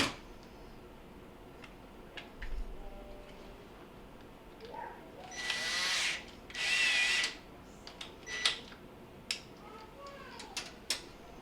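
A power drill buzzes in two short bursts while a refrigerator evaporator fan motor is reinstalled, with faint clicks and handling noises between them in a quiet room.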